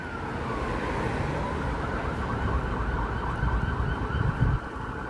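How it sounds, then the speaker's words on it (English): A wailing siren rises and falls steadily over low, rumbling traffic noise, moderately distant and continuous throughout, during a night walk through a city street. "Well, that's the first siren I heard."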